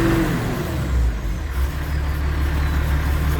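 An Allis Chalmers 200 tractor engine runs at wide open throttle, a steady loud low rumble heard up close that stays constant throughout.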